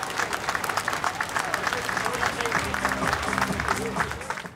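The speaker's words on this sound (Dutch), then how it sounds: "En hier komt het applaus" Roadside spectators clap and cheer at the start of an Eneco Tour cycling stage in West-Brabant, a busy crowd wash of applause with voices mixed in and a broadcaster talking over it.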